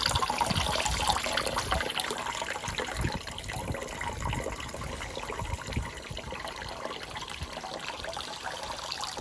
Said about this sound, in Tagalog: Ayan, nagbabawas na po tayo ng tubig.